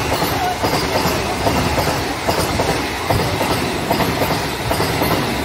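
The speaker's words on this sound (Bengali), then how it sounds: "এরই মধ্যে আমাদের ট্রেন দাঁড় করিয়ে দিয়ে বন্দে ভারতকে পাস করানো হবে।" A passenger train rolls along with a loud, steady rumble and rhythmic clickety-clack of wheels over rail joints, with no one speaking.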